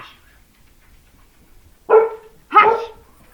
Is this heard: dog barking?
yes